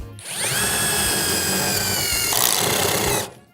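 A Dnipro M DTD-201BC cordless screwdriver drives a screw into soft pine with one sustained, close motor whine that rises slightly in pitch, then a brief rougher grinding near the end before it stops.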